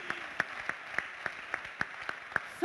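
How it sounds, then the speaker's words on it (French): At a talk on persuasive speaking, a few slow, evenly spaced sharp claps ring out, fairly faint against a quiet room, more like a small group or single clapper applauding a speaker than a full crowd. "On l'applaudit, il est bon, oh Manu."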